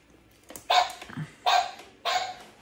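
A toy dog in a Halloween decoration barks three times in quick succession, close, loud and electronic-sounding.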